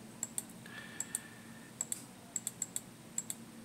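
Light, crisp computer clicks tap out in a quick irregular series of about a dozen, close and quiet over a faint steady hum, as a lecturer advances through presentation slides.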